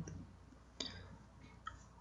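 Computer mouse clicks in a quiet room, two crisp separate clicks about a second apart over faint background hiss.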